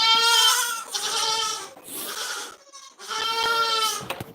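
Goats bleat in a stall on a farm: three long, loud, wavering calls close by, separated by short pauses.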